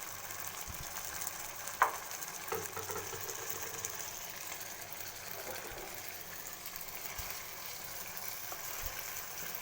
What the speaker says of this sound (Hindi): मैं इसको अच्छे से भुनाई कर लूँ।